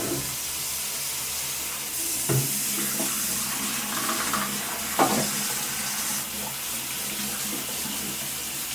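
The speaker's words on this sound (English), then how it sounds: "Just clean it with lots of water." Tap water runs steadily to rinse a film developing tank after developing film shot on a Leica IIIF, a continuous rushing splash with a few brief clunks of handling.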